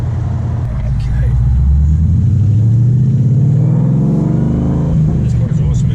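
A 750-horsepower supercharged Mustang GT 5.0 Coyote V8 with a six-speed roars loudly inside a tunnel, its note climbing steadily as it accelerates, the sound booming and reverberating off the walls.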